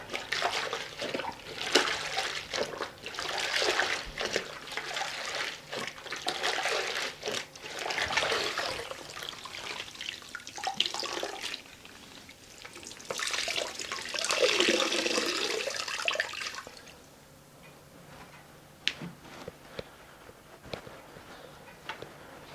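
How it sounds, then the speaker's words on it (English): A mop sloshes and swishes in a bucket of Pink Stuff floor-cleaning solution, with a continuous watery churning that rises and falls for most of the stretch before easing into quieter drips and splashes, close by and without speech. "rinsing the mop out in this solution right here between rounds"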